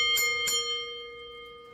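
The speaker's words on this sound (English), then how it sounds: "let's ring that bell" Two quick metallic clangs of a wrestling ring bell, bright and close, with a long ringing tone that fades slowly afterward.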